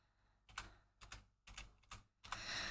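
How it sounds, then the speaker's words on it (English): A computer keyboard pecked at with one finger: five distinct, separated key clicks in an uneven rhythm, close and fairly quiet, with no talking. "My keyboard is not where I usually do all my typing when I'm not streaming, so I have to pick away with one finger."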